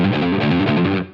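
Distorted electric guitar plays fast triplet rolls in a progressive, odd-time rock style, a steady rhythmic run of repeated picked notes at close range that cuts off sharply near the end.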